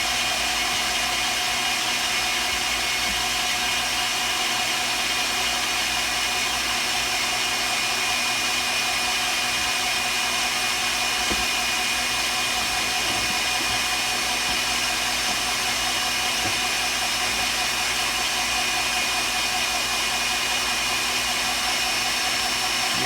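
An electric mixer whips egg whites for a pie meringue with a continuous high motor whine, close and steady throughout.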